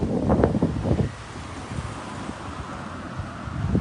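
Gusty wind on a beach at Bangsaen, Thailand, buffets the microphone, rumbling loudest at the start and end with a steady low roar in between; no one speaks.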